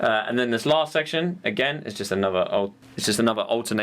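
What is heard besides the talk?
No everyday noise stands out behind the speech.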